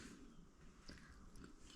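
A soft, close bite into tofu stewed in tomato sauce with shallots, garlic and onions, with brief quiet squishing and chewing and no voices.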